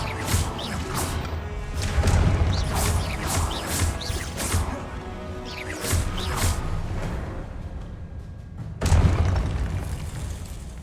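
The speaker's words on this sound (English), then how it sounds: "Confringo!" Confringo spell cast in the video game Hogwarts Legacy: a series of loud booming blasts and crackling bursts over a rumbling low backdrop, with one especially strong impact near the end and no talking.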